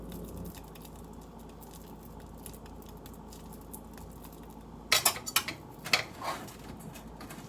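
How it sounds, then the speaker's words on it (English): Oats for energy balls are scraped and stirred in a mixing bowl. Soft, quiet rustling gives way to a brief cluster of sharp clinks and scrapes of a utensil against the bowl near the end. "you can use it to grab the rest of the oats and what have you on the sides of the mixing bowl"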